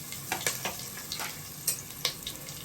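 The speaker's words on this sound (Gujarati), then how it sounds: "ગેસ ધીમો રાખવાનો છે અને એને તેલમાં સતળાવા દો." Potato pieces fry in hot oil on a low gas flame for a mixed vegetable tava pulao, a steady close sizzle broken by several crisp spatters and light scrapes of stirring.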